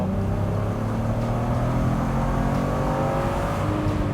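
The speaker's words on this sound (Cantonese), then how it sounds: "同埋佢呢一個 VR 呢個聲係喺高轉係有啲特別嘅聲響嘅" A first-generation Audi TT Roadster 3.2 quattro with a VR6 engine drones and revs in a loud, continuous tone heard from inside the moving car, the pitch climbing gradually under steady wind rush.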